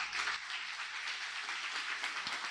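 A church congregation applauds the Lord during a Pentecostal service, a steady, dense wash of clapping that fills the room without pause and with no voices on top.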